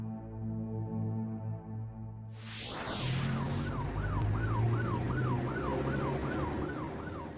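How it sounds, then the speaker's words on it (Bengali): An ambulance siren swells up on a poor rural road, its rising and falling wail repeating steadily and loudly over the rumble of traffic after a quieter opening. "ওই তো অ্যাম্বুলেন্স গেল।"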